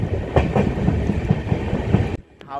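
Steady rumble and rhythmic clickety-clack of the Kandari Express 22898 passenger train running at speed, loud and close from onboard, cutting abruptly to a quieter interior near the end.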